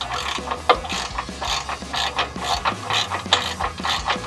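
Hand ratchet tightening the bolts on a RedRock HD stubby front bumper of a Jeep Wrangler JK, rapid repeated clicking strokes close by in an even rhythm, with no talk.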